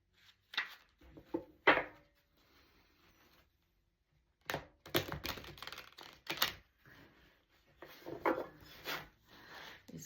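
Stiff tarot cards are handled in separate bursts of crisp riffling, snapping and tapping, close by, divided by short quiet gaps.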